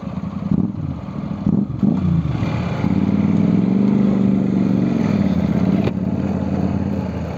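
A motorbike rides along a road on the Leopard Trail route near Gurgaon, its engine humming steadily and close, with a few bumps and clatters early on before a smooth, sustained drone.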